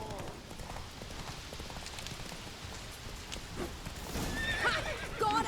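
Roach the horse galloping in the video game Witcher 3, a steady patter of hooves with a brief whinny near the end, over rain and other game sounds.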